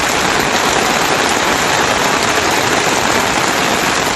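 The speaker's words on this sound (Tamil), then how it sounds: "இதேபோல கொடைக்கானலிலும் மிதமான மழை பெய்தது." Moderate rain falls steadily in Kodaikanal, a dense, even hiss of drops that stays loud and unbroken throughout.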